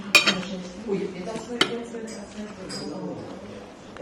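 Cutlery scrapes and clinks against a plate while digging into a pork knuckle in a Berlin restaurant, with a few sharp clanks standing out over nearby conversation.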